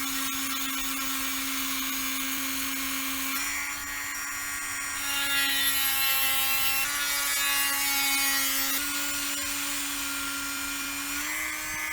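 A small rotary tool with a small diamond bit whines at a steady high pitch, shifting slightly as it drills into the hard rim of a walnut shell, continuous with no talking.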